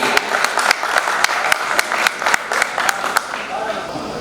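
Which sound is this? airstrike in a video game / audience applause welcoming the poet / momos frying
audience applause welcoming the poet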